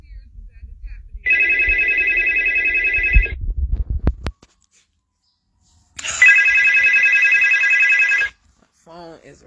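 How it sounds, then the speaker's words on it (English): A phone rings in two long, loud electronic bursts separated by a pause, with some thumping handling noise between them and a brief sound at the end. "My phone is ringing, but I don't even know."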